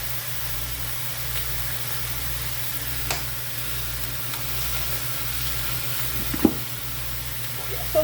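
Sausage, vegetables and potatoes sizzle steadily in a pan, a constant broadband hiss with a low hum beneath and a few faint clinks, no voices.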